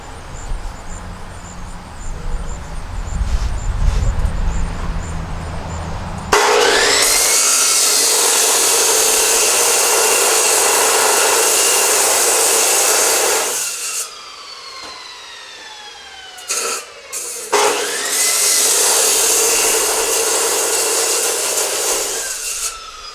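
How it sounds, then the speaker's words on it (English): A power saw cutting copper ends off a big copper stator, a loud continuous grinding whine that runs for long stretches, briefly stops and restarts, preceded by quieter handling noise. "So we're going to cut both ends of the copper off."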